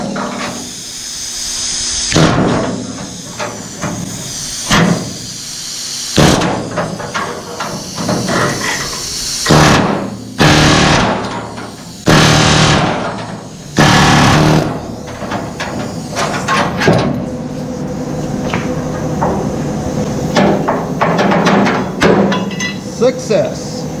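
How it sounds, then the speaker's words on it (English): Air hammer working along sheet metal to pop welds loose, giving repeated loud hissing, rattling bursts in irregular runs with short pauses between, close and harsh. "we will take my air hammer. We'll put it down the side of there and see if we can't pop the welds loose"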